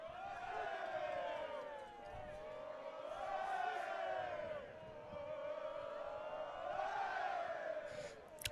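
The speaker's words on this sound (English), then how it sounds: "Can hear those Laval fans cheering on every single pass." Fans of Laval cheer at a women's university soccer championship match, a distant crowd roaring in rising and falling swells over about eight seconds, with a faint commentator voice in places.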